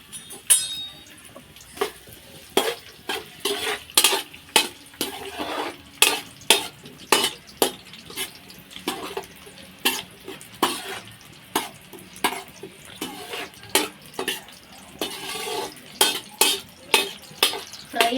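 Onions fry in hot oil in a pan for cauliflower masala while a utensil stirs them, giving a faint sizzle under a rhythmic run of sharp metallic scrapes and clinks repeating about every second.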